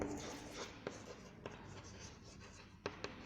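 Chalk or marker writing on a board during a chemistry class on coordination complexes, heard as soft scratchy strokes with a few sharper taps against a steady room hum.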